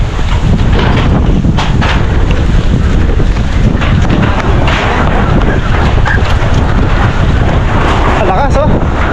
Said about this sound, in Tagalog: Ipu-ipu ata yan, ah.